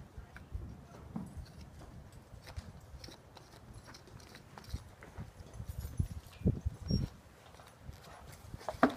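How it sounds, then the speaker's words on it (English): Hooves clip-clop at a walking pace during a horseback ride near Lake Natomas, irregular soft thuds that grow louder and sharper toward the end, with no talking. "Out here horseback riding over Lake Natomas."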